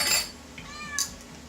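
A cat meows once in a home kitchen during cooking, a short, soft, drawn-out call that is close but quiet.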